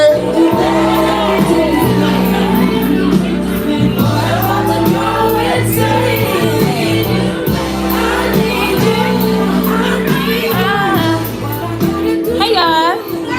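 A live audience at a poetry open mic cheers, whoops and shouts for a poet, a loud, continuous wall of crowd noise lasting throughout, with a voice or two rising above it near the end.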